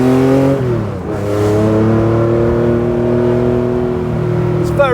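A lightweight restomod Porsche 911 Targa by Theon Design with a light flywheel blips its engine on a downshift: a sharp throttle rise and fall, then a loud, steady engine drone held close by, with no talking over it.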